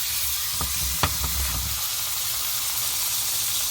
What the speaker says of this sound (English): now we're gonna put the steak in the pot